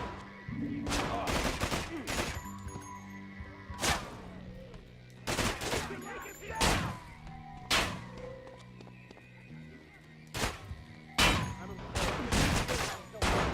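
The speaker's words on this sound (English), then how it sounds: "who is shooting me from inside this room?" Repeated gunshots in a manhunt-style video game, broad loud bursts in irregular clusters, some single and some in quick volleys, over a low droning background with occasional thuds.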